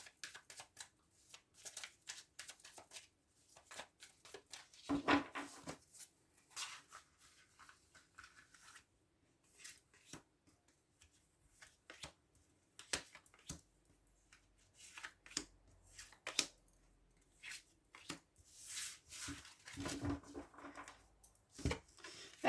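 Tarot cards shuffled and drawn by hand, a run of crisp riffling flutters and soft slides with brief pauses between bursts, close and fairly quiet, no talking.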